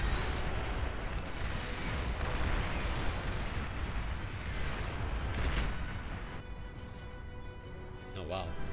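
Artillery shelling a base in the real-time strategy game Beyond All Reason, a continuous rumble of distant explosions and booms under steady commentary talk.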